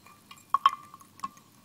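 Liquid is poured into a water-filled HHO electrolysis cell, giving a short run of splashes and glassy drips with a few sharp plops close by, with no talk.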